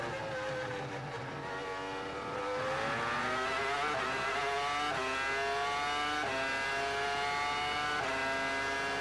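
Formula 1 cars scream past at the 2002 Canadian Grand Prix, their high-pitched engines rising steadily in pitch as they accelerate, loud and sustained with overlapping engine notes.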